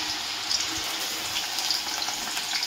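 Grated potato dropped into hot oil sizzles with a steady, bright frying hiss throughout, close and moderately loud with small crackles.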